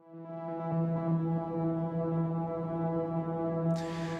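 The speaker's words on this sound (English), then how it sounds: "So as a basic demo, our first pad drone thing sounds like this." A sustained synth pad drone holds a steady, rich harmonic tone, swelling in gently and droning on, with a brief airy hiss near the end.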